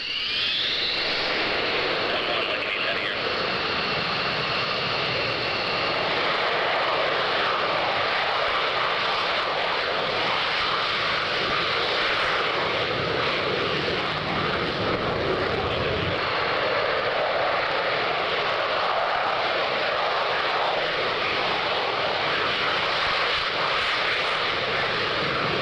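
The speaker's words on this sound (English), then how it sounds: "when these F-15s have taken off" F-15 fighter jets take off at a D-Day commemoration event, a sustained, loud jet roar with a high engine whine at the start, building and holding for the whole stretch without speech.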